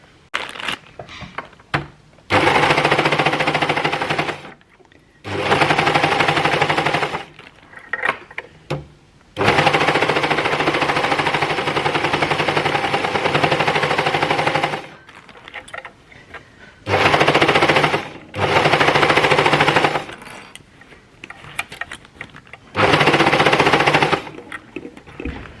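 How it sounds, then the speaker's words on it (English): An overlocker serges the curved crotch seam of a pair of pants in loud, close bursts of rapid machine whirring that start and stop several times, separated by quiet pauses. "starting from the back, we will overlock that crotch section together"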